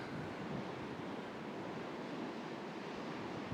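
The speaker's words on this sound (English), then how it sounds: "here's some waves now" Ocean surf breaks against dark rocks at Phillip Island, a continuous loud broadband wash of waves with wind buffeting the microphone throughout.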